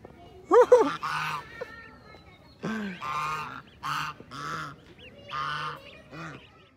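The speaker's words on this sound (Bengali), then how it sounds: "এখানে রাজা হাঁস দেখতেছেন" King geese on a village farm give a string of loud, nasal honks, a quick double call followed by several separate honks spaced a second or so apart, close by against a quiet background.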